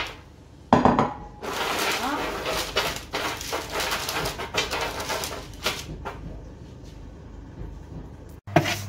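Raw almonds with their skins on being stirred and roasted in a pan, a steady rattling scrape of nuts and utensil against metal with sharp clinks throughout, close and fairly loud.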